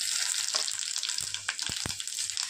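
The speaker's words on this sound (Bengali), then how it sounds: "ফোড়নটা ভাজা হয়ে যাক আর আসছি।" Whole spices (dried red chilies, bay leaf and panch phoron) fry in hot oil with a steady crackling hiss, punctuated by a few sharp pops and spits near the end.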